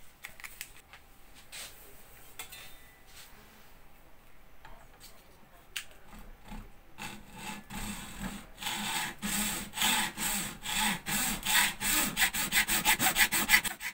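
A saw cuts through a plastic computer mouse, quiet at first, then steady back-and-forth strokes growing louder and faster in a close, even rhythm.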